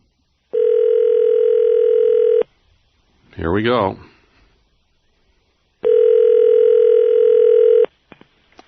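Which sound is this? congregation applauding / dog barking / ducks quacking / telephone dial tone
telephone dial tone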